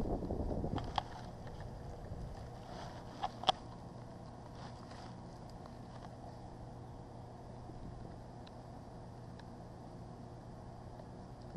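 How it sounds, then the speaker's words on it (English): Steady wind rushes and buffets the microphone outdoors during a Redcat RC car speed run, a constant low rumble with a couple of brief knocks near the start and no voices. "It's kind of windy today"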